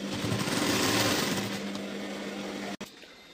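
A sewing machine stitching a blouse seam: a fast, continuous mechanical whirring and buzzing, close and fairly quiet, stopping suddenly near the end before a brief quieter restart.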